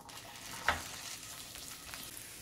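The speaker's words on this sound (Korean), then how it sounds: "팬에 기름을 두르고 달궈지면 오이부터 먼저 볶아줄게요" Cucumber stir-frying in a hot oiled pan for kimbap filling produces a soft, steady sizzle with one brief clatter or scrape near the start, close by and without speech.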